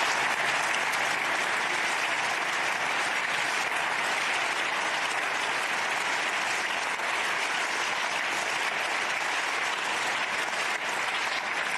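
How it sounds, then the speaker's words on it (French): Sustained applause from a large audience in the European Parliament chamber in Brussels, a steady dense wash of clapping held at even loudness without a break. "Vous m'applaudissez"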